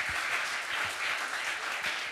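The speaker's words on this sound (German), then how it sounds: "Applaus, stark." A studio audience at a sports quiz show claps steadily in a brief burst of even, moderately loud applause with no talking over it.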